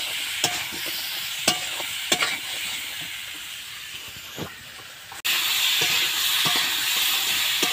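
Potatoes frying with turmeric and salt get stirred in a pan, a steady close hiss of sizzling broken by sharp scrapes of the spoon, with a louder burst of frying partway through.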